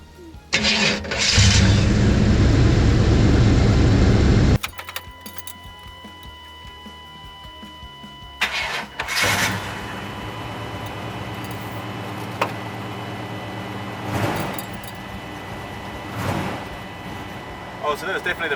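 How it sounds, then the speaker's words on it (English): A Chevrolet Suburban engine cranks loudly for a few seconds, then catches and fires up, settling into a steady idle with some background clatter. "give it a crank over and see if it goes"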